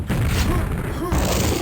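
A rocket launcher fires in Quake on the dm4 map, heard as two booming blasts, the second starting just past the middle, under continuous loud game noise.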